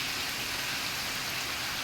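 The first monsoon rain pours steadily, giving an unbroken, even hiss of falling water across the whole stretch, moderately loud and without voices.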